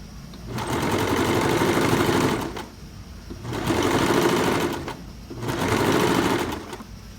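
A sewing machine backstitches a seam on a blouse with a smoking collar and kimono sleeves, running in three steady, rapid bursts with short pauses between them. The stitching is close and fairly loud.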